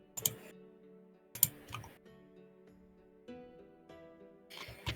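Bursts of typing on a computer keyboard, quiet and close, with brief clusters of key clicks separated by pauses and a faint steady hum beneath.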